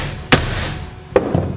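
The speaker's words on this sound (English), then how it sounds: "And then you can whack it. Whack it some more." A hammer strikes a broken bolt in two sharp metallic whacks about a second apart, with a fainter knock after the second, close and loud over a quiet background.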